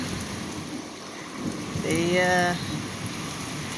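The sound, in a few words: torrential rain with thunder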